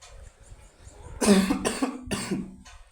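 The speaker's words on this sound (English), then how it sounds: "Excuse me, I have a cough." A single person coughs several times in quick succession, close and loud, with brief pauses between the harsh bursts.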